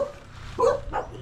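A dog gives two short barks close by, separated by a brief pause, over a low steady hum of background noise.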